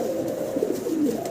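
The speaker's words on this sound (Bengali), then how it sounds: "ডাকাডাকিতে ব্যস্ত আছে, ব্ল্যাক কালারের, পায়ে মোজা আছে, অ্যারাবিয়ান কোকা।" A pair of black Arabian Coca fancy pigeons with feathered feet cooing, soft low throaty coos close by, a short continuous burble with no talk.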